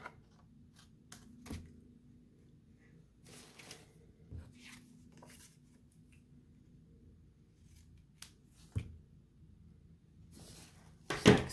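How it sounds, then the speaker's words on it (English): Scissors trim excess paper off a handmade Christmas card, a few quiet, close snips and crisp paper rustles spread out over a near-silent room. "and we will trim the excess off."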